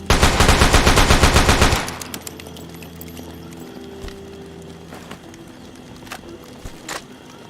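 Rapid automatic AK rifle fire in a video game, a loud close burst of about two seconds followed by quieter ambient game sounds with a few faint distant pops.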